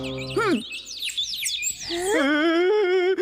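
Several cartoon birds chirp and tweet in quick rising and falling calls, first in scattered bursts, then as a steady warbling chorus that stays close and fairly loud, from the animated series Ninja Hattori.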